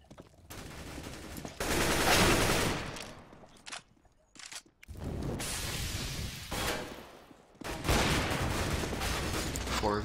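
Counter-Strike: Global Offensive gameplay carries loud, dense bursts of automatic gunfire in several long volleys, split by short pauses with quieter mechanical clicks and footsteps.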